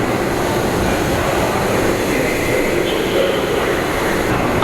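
Busy Times Square subway station in New York City, a transfer area for the N, Q, R and W lines, with a steady loud wash of train and platform rumble throughout and no clear talk.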